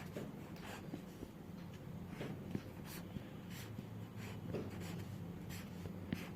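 Marker or chalk squeaks and scratches across a board while the ribose sugar structure is drawn, in short irregular strokes at moderate volume with no talking.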